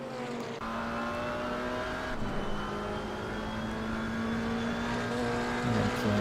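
A Maserati GT4 race car in the racing game Assetto Corsa Competizione drones at high revs with a steady engine whine, briefly dipping at a gear shift before climbing again near the end, no talk.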